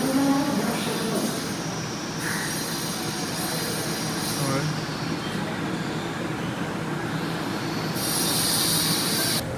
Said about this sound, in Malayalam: ഇത് നമ്മൾ മുംബൈയിൽ മാത്രം കണ്ടുവരുന്നൊരു ട്രെയിനായിരുന്നു.